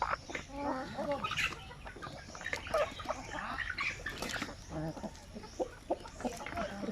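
Native chickens cluck busily close by, a dense run of overlapping clucks and short calls filling the whole stretch, with a faint voice now and then underneath.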